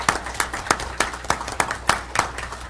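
Sparse, evenly spaced claps ring out at a city council meeting, about ten sharp hits in under three seconds, fairly close and without voices, more like a few people clapping than full applause.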